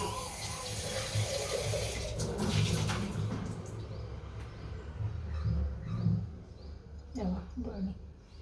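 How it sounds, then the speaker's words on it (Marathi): Water runs from a tap while a pickle jar is rinsed and washed in a sink, with splashing and clinking through the clip and someone talking underneath. "बरणी धुवून घेते"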